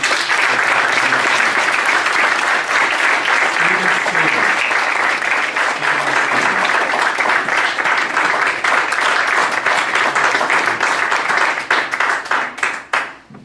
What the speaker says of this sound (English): I'd ask everybody to give Steve a round of applause